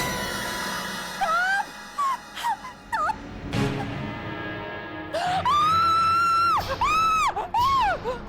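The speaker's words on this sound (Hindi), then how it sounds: "और डर के चिल्लाती है" A frightened woman screams on seeing a snake, a series of short wailing cries rising to one long, loud, sustained shriek and a few final sharp screams, heard close and alone.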